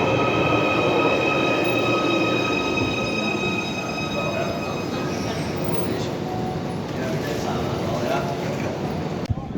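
A Merseyrail Wirral Line train at a station rumbles and clatters at close range with high squealing wheel tones, a continuous loud mechanical roar throughout.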